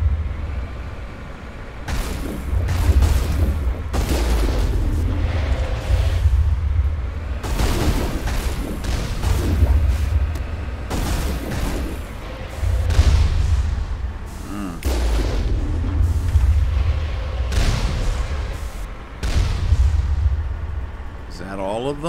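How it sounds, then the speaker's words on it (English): Rocket explosions strike the player during a firefight in Mass Effect on Ilos, with repeated heavy booms and rumbling blasts recurring every few seconds over constant low combat noise. "I certainly like the delayed reaction of those rockets hitting us"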